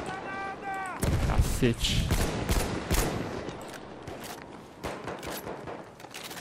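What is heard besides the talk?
gunfire from a rifle in the video game Battlefield 1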